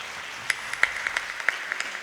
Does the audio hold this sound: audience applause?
yes